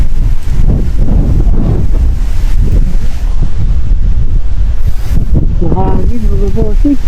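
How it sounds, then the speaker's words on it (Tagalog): Heavy wind at Abagatanen Beach in Agno, Pangasinan buffets the microphone with a constant roaring rumble, and a voice speaks briefly in Filipino near the end. "Mahangin."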